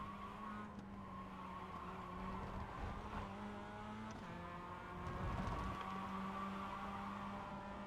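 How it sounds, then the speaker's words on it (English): A Mazda MX-5 race car in the iRacing sim slides and spins. A steady engine drone runs throughout, with tire scrub rising and falling and a louder skid-and-rev swell near the end, and no talking. "Spun the car, slid the car a little bit too much."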